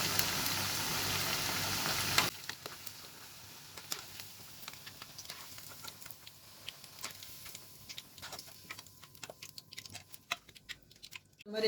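Cauliflower gobi manchurian pieces fry in hot oil with a steady close-up sizzle and crackle; a louder burst opens as the pieces drop in, then it settles into continuous fine popping and spitting with no talk.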